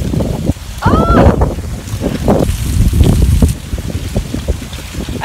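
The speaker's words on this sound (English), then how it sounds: "So we're here and it's so windy." Strong wind roars and buffets the microphone in heavy gusts, with a brief whistling squeak early on and water sloshing underneath.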